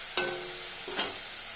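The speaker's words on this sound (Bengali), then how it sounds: "দুই থেকে তিন মিনিট এভাবে ভালোভাবে কষিয়ে নিয়েছি" Potatoes being sautéed in a tomato and spice masala, a soft continuous sizzle with two brief scraping stir strokes, close and fairly quiet.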